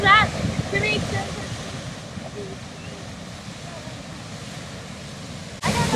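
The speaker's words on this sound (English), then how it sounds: "What do you think of that water shooting out?" A steady rushing, splashing wash of mineral water shooting out of the ground in southern Idaho, with wind buffeting the microphone and a few brief voices near the start.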